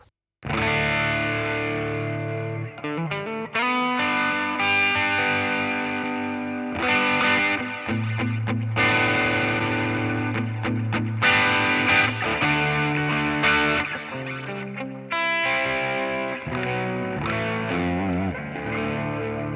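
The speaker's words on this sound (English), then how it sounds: "with the manual, like this, I'm pushing more on the high frequencies, and I cut basically all the low end." Electric guitar played through a Boss 200 series EQ pedal set to boost highs and cut lows, a loud, continuous distorted riff with bright, thin tone and sustained chords throughout.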